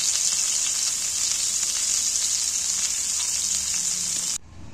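Hilsa paturi wrapped in bottle gourd leaves sizzles steadily in hot oil, a bright continuous frying hiss that cuts off abruptly near the end.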